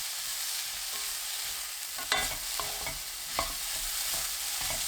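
Celery stir-fried over low heat with red chilli, fish sauce, salt and a generous spoonful of perilla seed powder, giving a steady soft sizzle with a few louder scraping stirs of the spatula partway through; no voices.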